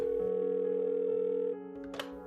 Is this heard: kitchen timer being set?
no